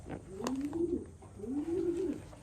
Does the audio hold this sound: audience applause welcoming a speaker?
no